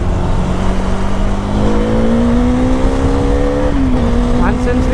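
Bajaj Dominar 400 motorcycle accelerating at full throttle on a highway, a steady loud engine drone rising in pitch, with a brief dip near the end, heavy wind rush throughout.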